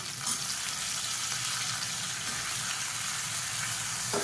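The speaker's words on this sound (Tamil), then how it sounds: "இப்போ இதையும் ஒரு 2 நிமிஷம் வதக்கிக்கலாம்." Drumstick and brinjal pieces sautéing in a pan for kulambu give a steady, close hiss of frying oil that holds evenly throughout, with no voices.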